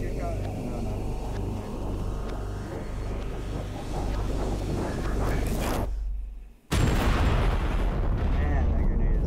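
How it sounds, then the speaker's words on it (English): Grenade explosion in Totally Accurate Battlegrounds: a sudden loud boom breaks in after a brief hush, then heavy rumbling debris noise. Before the hush, a player talks over steady game ambience. "Man, that grenade is so OP."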